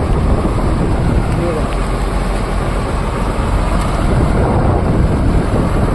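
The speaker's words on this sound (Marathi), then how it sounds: "आता ना बोट आपली बंदरामध्ये चालली आहे." A fishing boat heads back to harbour after prawn fishing off the Shrivardhan coast in Konkan, with a loud, steady engine drone blended with heavy wind rush across the microphone.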